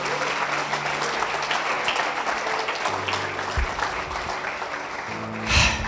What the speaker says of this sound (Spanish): ¿Le puedes dar un aplauso a Jesús?